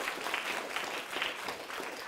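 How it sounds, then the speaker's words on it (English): An audience claps for a volunteer invited down to assist at a laughter yoga class, a steady patter of hands held at moderate volume for about two seconds with no talking. "Give her a round of applause, all right?"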